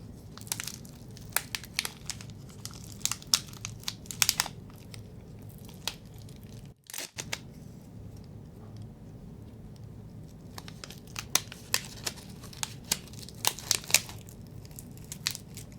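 An oolong tea packet is peeled open up close, giving a long stretch of crinkly crackling with scattered sharp ticks and small snaps.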